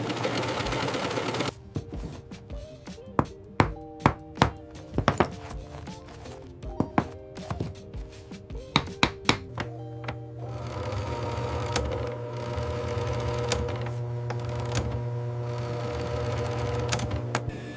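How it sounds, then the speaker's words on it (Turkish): Industrial sewing machines whir and stitch horse leather in a boot and bag factory nearby, with rapid needle clatter and sharp knocks, then a steadier mechanical hum in the second half. "özel dikiş makineleriyle güçlü dikişler atılıyor"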